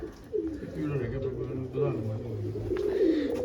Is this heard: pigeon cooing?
yes